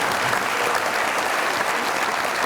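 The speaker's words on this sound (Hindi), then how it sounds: "बहुत सारी तालियां इनके लिए" A studio audience on the television comedy show Mazaaq Raat gives loud, dense applause, continuous clapping that stays steady throughout without talk over it.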